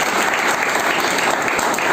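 A crowd at a business networking meeting breaks into loud, continuous applause, a dense, even roar of clapping that fills the room.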